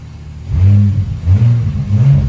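A car engine revs with its exhaust diffuser switched between open and closed, giving loud, close, throaty bursts of low revving that rise and fall in two or three pulses.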